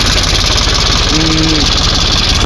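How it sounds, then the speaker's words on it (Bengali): An Eicher tractor's diesel engine chugs loudly and steadily at close range with a fast, even knocking pulse, and a brief tonal hum rises midway; the gearbox is not yet fitted. "গাড়িটা ইঞ্জিন সাউন্ড শুনতে পাইতেছেন"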